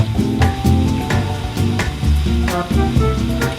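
Garlic sizzles in hot oil in a pot for Trinidad-style stew chicken, a steady loud frying hiss broken by repeated clacks of a spoon stirring, close up, with no one speaking.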